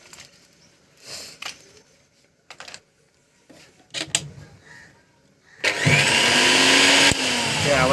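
A kitchen mixer grinder, freshly oiled and run without its jar, starts after a few scattered handling clicks and knocks, then whirs loudly and steadily with a high motor whine to the end.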